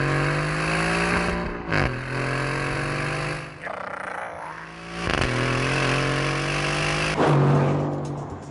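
Aston Martin Vantage engine revving hard and close, rising and falling in pitch through several throttle blips and gear changes with a gravelly, rasping tone.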